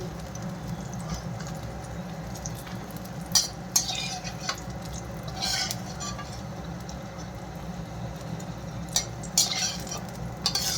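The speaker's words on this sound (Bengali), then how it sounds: "বেগুনটা কিন্তু লাল লাল করে ভাজা হয়ে গিয়েছে, এখন তুলে নিই" Eggplant pieces fried until reddish are lifted out of a pan of oil for a five-vegetable shukto, a steady low sizzle with several sharp metallic clinks and scrapes of a utensil against the pan.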